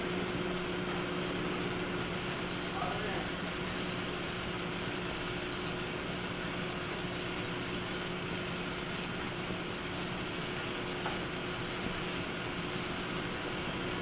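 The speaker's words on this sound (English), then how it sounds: "Start the jet." A test jet in a NASA laboratory, heard as a steady, loud, broadband roar with low tonal hums, running continuously without any change or pause.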